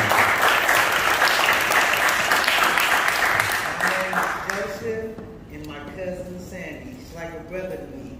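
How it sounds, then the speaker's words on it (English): Loud applause from a church congregation fills the first few seconds, then fades into scattered claps with voices and murmuring. "Let's clap our hands for our brother."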